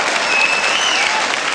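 Packed 1984 UK tag team wrestling crowd applauding a sequence in the ring, a loud, dense burst of clapping and cheering with no pause.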